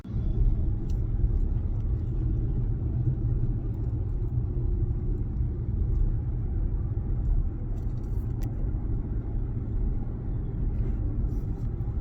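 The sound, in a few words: car driving home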